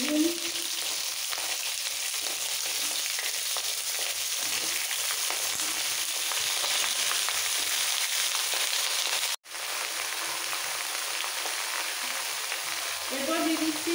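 Mixed vegetables (bottle gourd, carrot, pumpkin, pointed gourd, eggplant, taro, cauliflower, banana stem) sizzling in hot oil, a steady loud hiss throughout with a brief dropout near the end.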